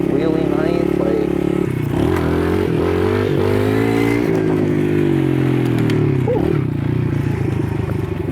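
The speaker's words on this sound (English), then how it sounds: "Let's get some wheelies going" Motorcycle engine loud and close, revving and holding high during wheelies at night, a steady roar with rising and falling pitch, wind buffeting, and a rider talking over it.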